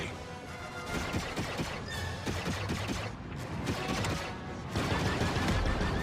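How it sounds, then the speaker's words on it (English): Sustained turret gunfire in an Ubisoft action video game, a loud continuous barrage of shots mixed with crashing impacts and game noise, no talk over it. "Turret activated, Kay."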